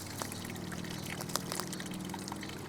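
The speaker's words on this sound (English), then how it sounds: "It just trickles away now." Water trickling out through a bowling-ball-sized eroded hole in a neglected leaking pond, a faint steady dribble with a few soft splashy ticks, no voices.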